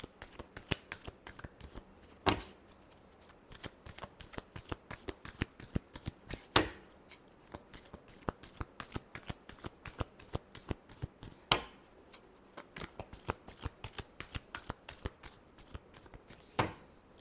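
Tarot cards are shuffled by hand close up in a quiet room, giving a rapid crisp riffle of flicks with a few louder slaps where the deck is squared.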